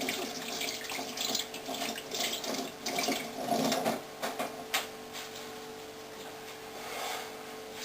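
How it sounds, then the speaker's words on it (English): Tap water runs steadily into a sink as wax is washed off hands, a close, continuous splashing with irregular shifts in loudness from the hands moving under the stream. "Sorry, Tom, I'm going to have to wash this wax off my hands"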